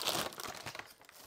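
Plastic packaging of a 30-count pack of elastic sifting cat litter box liners for a large pan, already cut open with scissors, being pulled apart: close, steady crinkling and crackling with a brief tearing edge, no talking.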